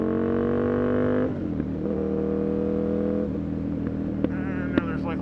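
Aprilia RSV 1000 R Factory motorcycle engine droning steadily at speed, its harmonic whine shifting pitch with gear changes, heard close with wind noise and a rider talking over it.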